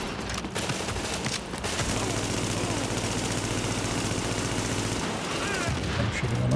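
Sustained automatic gunfire in The Division rattles on in dense, continuous bursts at mid distance, with a low mechanical rumble underneath and a brief tailing-off near the end.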